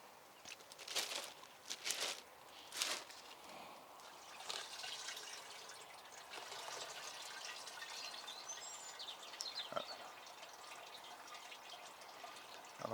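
Quiet trickle of draining water with a few distinct drips early on, fading into a soft steady flow.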